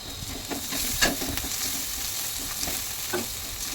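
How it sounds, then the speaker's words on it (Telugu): Vegetables with a pinch of turmeric frying in a pan for an ivy gourd curry, stirred by spoon, giving a steady close sizzle with a few sharp scraping clinks along the way. "ఇలా మంచిగా కలిపేసుకోవాలి"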